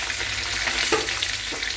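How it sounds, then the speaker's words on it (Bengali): A fish head frying in oil, a loud dense continuous sizzle with small crackles and occasional stirring knocks, close up and without talk. "এই মুড়োটা ভাজছি"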